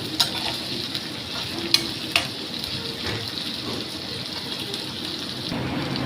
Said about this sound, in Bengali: একটু কষবে এটা পেঁয়াজটা ভালো করে কষে আসবে